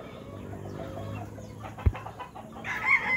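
Young four-month-old stag roosters let out on a gamefowl farm, several birds clucking and crowing at a moderate distance, with one sharp knock and a rising crow near the end, no talking.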